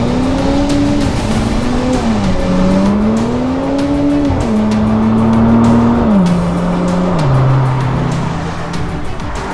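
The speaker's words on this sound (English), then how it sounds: "that engine makes a good noise" Engine of an Audi S5 while driving, a steady loud drone with the pitch rising and falling through gear changes, close and continuous with no talk over it.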